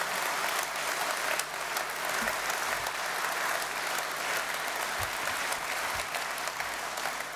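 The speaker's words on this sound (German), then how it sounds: "Applaus" Sustained audience applause at an AfD parliamentary group citizens' dialogue event in Karlsruhe, a steady dense wash of clapping from a large indoor crowd lasting throughout, with no speech over it.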